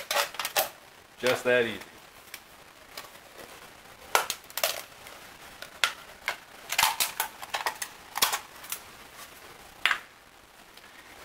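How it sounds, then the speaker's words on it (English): A Foster's beer can being popped and pulled apart while making an alcohol stove, with a run of sharp metallic clicks, crinkles and cracks scattered throughout; someone speaks briefly. "Now I can pop the can apart, I hope."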